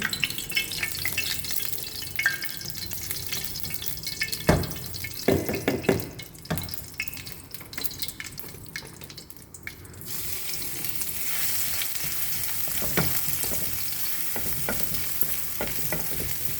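Glass noodles with fresh shrimp, minced pork and straw mushrooms stir-fried in lard, giving a steady loud sizzle broken by sharp scrapes and clatters of the spatula, with a brief quieter stretch midway.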